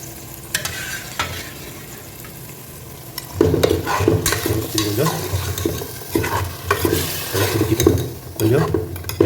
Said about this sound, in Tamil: மட்டன் கொஞ்சம் எண்ணெய் பிடிக்கணும்